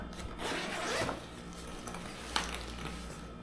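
A zipper on a Predator laptop bag is pulled open in a few quick rasping strokes, close and clear, followed by a sharp tug and quieter handling.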